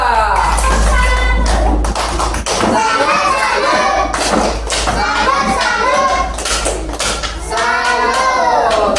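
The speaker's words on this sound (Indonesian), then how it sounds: "tepuk salut untuk kelompok 2" A classroom group claps in a rhythmic salute chant for group 2. Loud, patterned hand claps are mixed with children's voices chanting and talking throughout.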